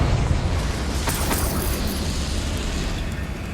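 Confringo fire spell blast in the Hogwarts Legacy game on hard mode, a loud, dense roaring explosion that rumbles on steadily for several seconds with no talking.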